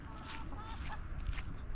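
Backyard chickens clucking and squawking in a short burst of close, busy fowl calls over a noisy background.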